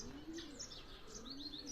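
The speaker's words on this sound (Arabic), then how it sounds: "عندك هذا طائر الجنة" Faint, thin chirps and short whistled calls of a bird of paradise repeat over a soft low coo in a quiet ornamental bird reserve.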